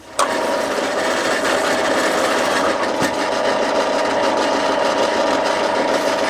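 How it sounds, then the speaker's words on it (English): A steady, grinding power-drill whir bores into a clamped knife handle scale, continuous and close, with a brief knock near the start and no voices. "And I'm going to drill my hole."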